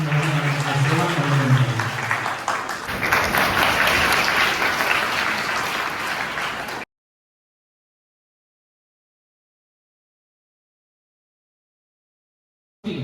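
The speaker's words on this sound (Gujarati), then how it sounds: "જોરદાર તાળીઓથી આપણે" A crowd at a Gujarati village gathering on tree planting and an old-age home claps loudly for about four seconds after a voice, then the sound cuts to silence.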